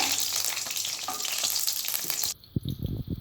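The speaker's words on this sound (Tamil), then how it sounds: "கத்திரிக்காயை எண்ணெயில் நல்லா வதக்கிக்கோங்க" Whole brinjals (eggplants) fry in hot oil for a biryani brinjal dish, giving a dense, close sizzle and crackle for about two seconds. The sizzle then cuts out, and a few low soft thuds follow.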